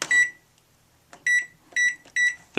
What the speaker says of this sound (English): the timer function on our microwave to set a timer for an hour